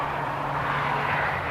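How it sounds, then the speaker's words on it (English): Jet engines of a TUI airliner spool up at an airport during a live planespotting session, giving a steady, continuous roar with a low hum that holds at the same level throughout. "TUI just starting the engines."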